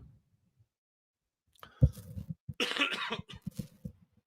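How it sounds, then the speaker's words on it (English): A few harsh coughs burst out after a quiet start, followed by a rough, raspy throat sound and short choppy bursts, close and fairly loud. "I've been fighting this cough for like 2 days now."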